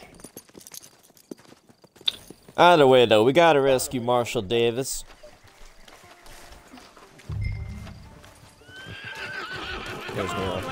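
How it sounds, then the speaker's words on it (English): In a Western video game, a horse whinnies loudly in a long, wavering call, followed later by hoof clip-clops and a second, fainter neigh, while someone speaks. "That was his horse."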